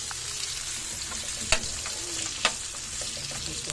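Cut pieces of longganisa sausage fry in a pan with a loud, steady sizzle. Two sharp utensil scrapes cut through the hiss.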